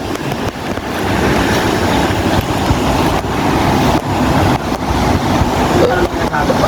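Mahiwagang Talon (Arwells Fall), a deep waterfall, roars with a continuous broadband rush of falling water, loud and close, steady throughout with slight surges.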